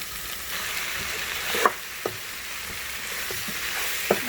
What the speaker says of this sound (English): now I'm going to kind of stir this around a little bit.